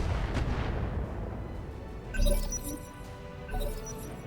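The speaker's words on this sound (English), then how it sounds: "Firing all weapons." Weapons fire in a mech combat video game, a dense rumbling barrage with sharper booming impacts near the middle and end, loud and close with no voices over it.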